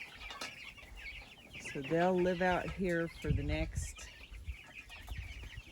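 Meat chickens raised to a large size cluck and call in a series of short, close, moderately loud bursts, while a person talks over them.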